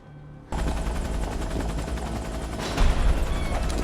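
Loud, steady helicopter rotor roar from the film Army of the Dead (2021) that starts abruptly after a brief quiet moment and swells slightly near the end, with no voices.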